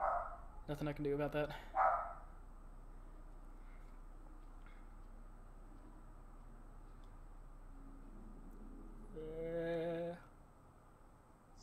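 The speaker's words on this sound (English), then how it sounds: "sorry for the dogs barking in the background" Dogs bark in the background during a Man of Medan game session, a quick burst of barks near the start and another cluster around the ninth to tenth second, with someone speaking briefly in between.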